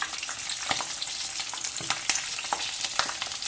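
Vada and green chillies fry in hot oil with a dense, close sizzle and frequent sharp crackles and pops, steady throughout with no talking.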